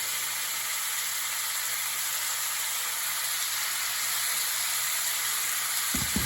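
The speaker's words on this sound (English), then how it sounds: "We let that fry up." Seasoned buffalo (bison) meat with salt and black pepper frying in a pan gives a steady, even sizzle and hiss that carries on unbroken, with no voices over it.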